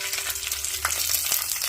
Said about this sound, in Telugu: ఆవాలు కొంచెం చిటపట్లాడిన తర్వాత కరివేపాకు అండి